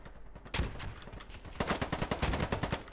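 AK-47 fire in the shooter game Polygon: after a brief quiet start, several sharp shots hit loud and close, then a sustained rapid automatic burst of evenly spaced cracks runs to the end.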